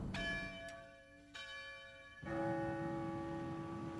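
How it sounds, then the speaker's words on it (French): A clock's striking mechanism rings a bell for the hour, with three resonant strikes at an even pace whose long ringing overtones overlap, the final strike loudest and sustained, with no voices. "C'est un mécanisme de la sonnerie des heures."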